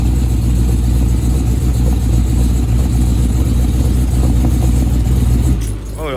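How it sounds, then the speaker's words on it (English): A Dodge Challenger Hellcat engine on a cold start, a loud, close, deep idle rumble that holds steady for several seconds before dropping off near the end, with no talking. "So this one is a cold start."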